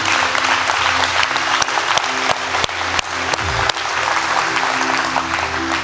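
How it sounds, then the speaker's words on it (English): A church congregation at a baptism service breaks into loud, sustained clapping in praise, many hands beating together steadily for several seconds with a few sharp louder claps standing out. "give her a hand clap of praise again, would you?"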